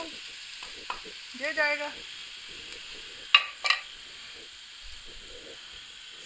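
White cumin seeds fry in a pan with a faint, steady sizzle, broken by a few sharp clicks and a brief voice.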